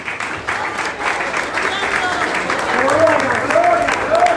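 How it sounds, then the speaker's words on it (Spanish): An audience in a church service claps steadily and fairly loudly, while a voice sings or calls out over the applause toward the end. "Den un aplauso a Cristo."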